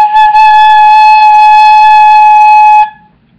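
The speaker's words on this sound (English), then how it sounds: "It sounds like this if you don't cover it" Flute blown with none of its holes covered, producing one loud, steady, pure tone held close for nearly three seconds before stopping cleanly, with no voices.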